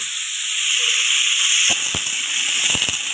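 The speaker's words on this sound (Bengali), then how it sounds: "ওই তেলের মধ্যে আমি আলু দিয়ে দিব" Potatoes and mixed vegetables dropped into hot oil in a pan, giving a loud, steady frying hiss with a few sharp crackles and pops toward the end, close by.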